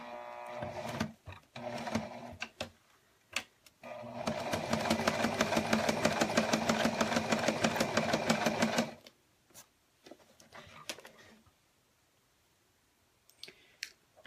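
A sewing machine stitching a mini quilt hums in one steady run of about five seconds, framed by scattered clicks and handling taps before and after, all fairly quiet and close.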